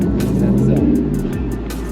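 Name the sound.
truck driving past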